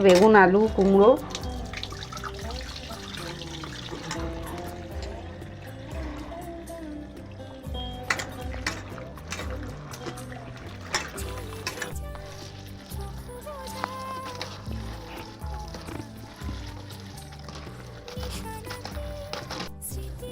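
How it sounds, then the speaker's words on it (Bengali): Tap water runs steadily into a sink while spinach, potatoes and eggplant are washed by hand, with splashing, clattering and vegetables rubbed together close by. A person's voice can be heard over the washing now and then. "পালং শাক আলু বেগুন বই ওকে এগুলো একটু ধুয়ে নিই তাড়াতাড়ি করে"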